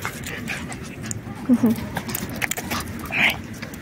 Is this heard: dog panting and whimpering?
yes